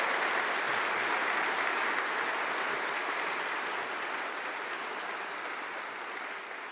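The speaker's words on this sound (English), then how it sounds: "a huge round of applause for our Vice-Chancellor" Audience applause for a university Vice-Chancellor at a summer graduation congregation, a thick continuous roar of many hands clapping, loud and steady, tapering slightly toward the end.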